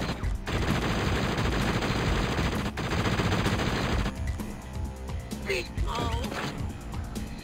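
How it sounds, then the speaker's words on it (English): Missile launches and explosions from the Beast Wars video game, a dense, loud barrage of repeated bursts that fills the first four seconds, then gives way to scattered mechanical clanks and whooshing effects. "And here I'm throwing more missiles of course, around."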